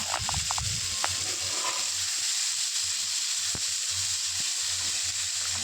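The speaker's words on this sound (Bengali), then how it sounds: "এবার কাটা টমেটোগুলো কড়াইয়ের মধ্যে দিয়ে দেওয়া হলো" Chopped tomatoes frying in a wok with mustard, a steady sizzle with a few clinks of utensils against the pan near the start, no voices.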